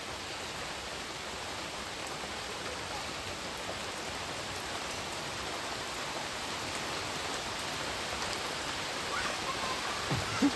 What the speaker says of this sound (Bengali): এত বৃষ্টি হচ্ছে প্রতিদিন, ভ্যাবসা গরম হচ্ছে